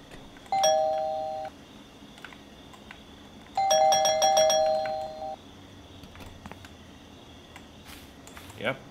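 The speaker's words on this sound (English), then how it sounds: "What if I, like, ring the doorbell and then just sneak" Two separate doorbell chimes ring inside the video game Thief Simulator, each a clear tonal ding-dong lasting about a second, with a quiet gap between them and a faint background hum.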